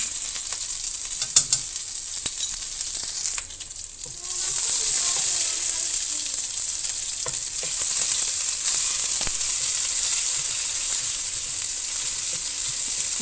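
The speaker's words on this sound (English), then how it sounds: "we're going to fry the ingredients well in the oil" Pounded spice paste frying in hot oil in a wok for nasi goreng kampong, giving a steady, bright sizzle that swells louder partway through and keeps hissing with faint stirring scrapes.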